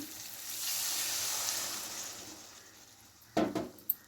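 Egg omelet curry with water just added sizzles and hisses steadily at a fairly quiet level, then fades, followed by a few close clatters of stirring near the end.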